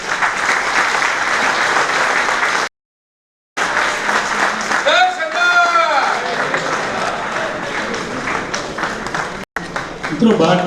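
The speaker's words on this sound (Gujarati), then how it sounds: "તાળીઓથી વધાવો." Sustained applause from an audience welcoming a guest of honour at a felicitation ceremony, dense and continuous with a brief cut, over which a voice speaks through a loudspeaker.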